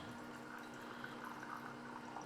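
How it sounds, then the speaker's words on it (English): Water pours steadily into the reservoir of a Shark Pro steam pocket mop, a faint, continuous trickling and filling sound with no talk over it. "we're going to put some water in here"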